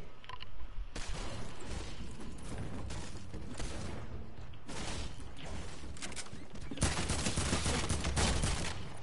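Video game sniper rifle fire cracks out in several loud, sharp bursts separated by brief gaps, each shot followed by a dense wash of noise, with no talk over it.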